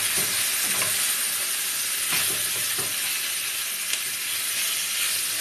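Taco filling sizzles in a hot pan while being stirred, giving a steady, close frying hiss with occasional soft scrapes of the utensil.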